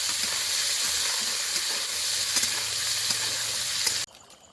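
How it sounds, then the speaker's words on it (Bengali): Cut, washed potatoes hit hot oil in a wok with a loud, steady broadband sizzle that holds evenly for about four seconds, then drops suddenly to quiet. "কড়াইয়ে তেল গরম হয়ে গেছে, এবার কেটে ধুয়ে রাখা আলুগুলো দিয়ে দেবো।"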